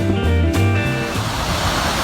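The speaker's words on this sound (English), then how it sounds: "So we've happened upon a waterfall here." A waterfall beside the Blackstone River bike path in Woonsocket roars as a steady, loud wash of rushing water, close by and continuous, with a low hum running underneath and no talk.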